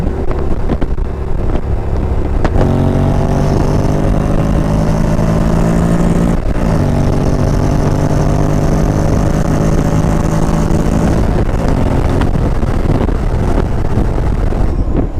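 A Honda X-ADV 750 engine revs high and climbs in pitch, then holds a loud, strained drone before dropping away, with heavy wind rush over the microphone throughout.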